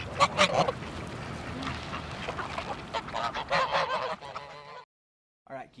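Geese honking loudly and steadily while being fed, a dense overlapping chorus of calls close by that suddenly cuts off near the end, followed by a brief sound after a pause.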